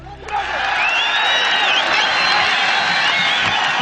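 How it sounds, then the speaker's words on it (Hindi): A large crowd at the outdoor shooting location of the film Lagaan, cheering, whooping and clapping loudly in a sustained, rowdy roar that swells in after a brief start. "भीड़ लगातार अशांत हो रही थी और हुल्लड़बाजी पर उतर आई।"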